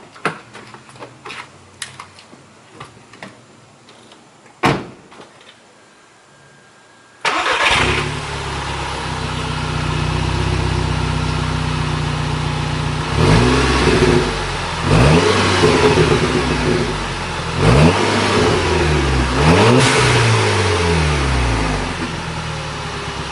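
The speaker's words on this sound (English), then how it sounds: "So next thing, start her up." A VW MK6 with a muffler delete cranks and fires up, settling into a loud raspy idle, then revs sharply several times in close succession. Some light clicks and handling noises come before the start.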